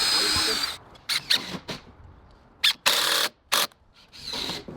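A power drill drives screws into composite decking boards while an outdoor deck and bar are built: several short, loud whirring bursts separated by pauses, close up.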